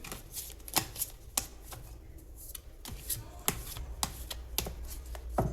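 Tarot cards shuffled by hand, close and fairly quiet, with a series of sharp riffling snaps at irregular intervals over soft handling noise.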